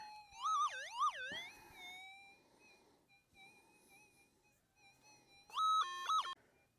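A metal detector hunting for gold in an old hydraulic mining pit gives warbling electronic tones that rise and fall, loud at the start, quieter in the middle, then a strong stepped burst near the end.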